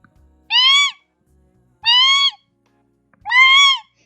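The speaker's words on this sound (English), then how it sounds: "I can't go pee without you shrieking at me. It's like, bird, shut up." A pet bird gives three loud, piercing shrieks, each about half a second long and evenly spaced, with silence between them and no talking.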